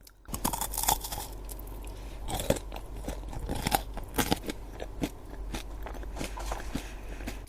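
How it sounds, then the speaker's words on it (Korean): Repeated crisp crunching bites of a crunchy frozen treat up close, chewing steadily with no talking; a chocolate ice cream with a cornflake coating and milk ice cream inside. "서걱서걱거리는 그런 가벼운 초코 맛의 아이스크림이에요."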